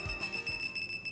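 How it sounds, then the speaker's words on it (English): High-pitched electronic beeping from the video game Project Eden's Garden, a steady tone pulsing in a quick series, alarm-like and continuous through the short moment. "His words were interrupted by an unexpected series of high-pitched beeps."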